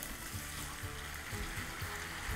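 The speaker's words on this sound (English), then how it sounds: "Hear that sizzle?" Liquid poured over meat in a hot pan sets off a steady, close sizzle and crackle that runs throughout with no talking.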